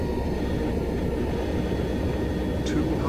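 An airplane engine in a video game drones loudly and continuously, with a steady low rumble and no change across the short span.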